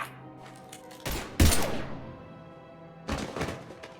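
Gunfire in the video game Mass Effect 3: a few sharp, booming shots ring out with long decaying echoes, one pair in quick succession and another a couple of seconds later.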